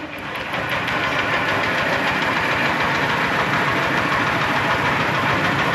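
A diesel tractor engine chugs steadily and loudly close by, a constant rough idle that swells up in the first second and then holds.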